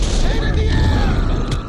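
A grenade explodes in Cyberpunk 2077 with a loud, close, low rumbling boom that fills the short moment and fades under mechanical noise, while a voice talks over it.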